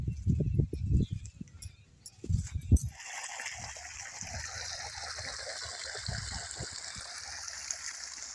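Water from a borewell pump pours into a farm field as a steady rushing hiss that starts after a few seconds of nearby voices and runs on continuously.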